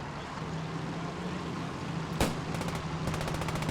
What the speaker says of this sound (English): Oh, and a little bit of return fire there.